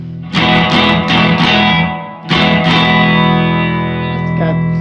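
Electric guitar, a Harley Benton SC 450 P90 GT, played through reverb: loud strummed chords ringing out, a short pause, then more strums decaying into a long reverberant tail.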